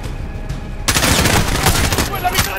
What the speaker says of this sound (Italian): Quella mitragliatrice!